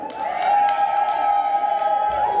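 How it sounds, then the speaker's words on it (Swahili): A wedding crowd cheers, with a sustained high-pitched ululation running throughout and faint claps and whoops layered underneath. "Makofi na vigeregere tafadhali."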